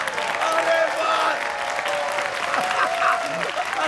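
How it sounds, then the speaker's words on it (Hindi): A group of people breaks into lively clapping, a steady patter of many hands with crowd murmur and a few voices mixed in. "अरे तालियां!"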